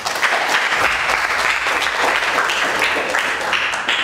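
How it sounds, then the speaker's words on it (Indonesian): Classroom applause for a student at a vocational high school in Bandung, a dense, steady burst of clapping from many hands that holds for about four seconds with a faint voice underneath. "kalau gitu tepuk tangan untuk Aji"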